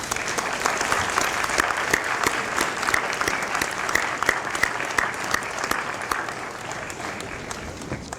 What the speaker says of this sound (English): So graduates, please stand, turn, and give a round of applause to all of those in the audience